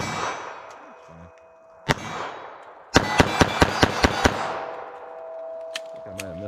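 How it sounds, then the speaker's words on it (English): .22 Magnum Fiocchi Defense Dynamics rounds fire sharply and close: one single shot, then a pause, then a quick string of six evenly spaced reports. Faint ringing decays between shots. "let me shoot slow, see if I can get a headshot"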